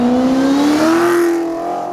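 A close, loud Ford Mustang engine revs in one sustained rising whine at a car meet, then holds steady and begins to fade.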